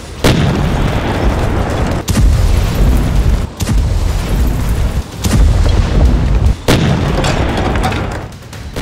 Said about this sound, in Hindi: इस टैंक ने 1 नहीं, 2 नहीं, 3 नहीं, बल्कि इस इमारत पर 2 मिनट में 20 के करीब गोले दागे